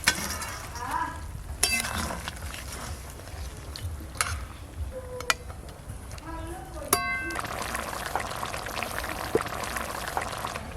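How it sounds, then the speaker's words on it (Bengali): Tilapia fish curry gravy boiling hard in a pan, bubbling and popping with stirring clatter and scattered utensil knocks, while a voice talks over parts of it. "ঝোল একদম টকবকে হয়ে ফুটে গেছে।"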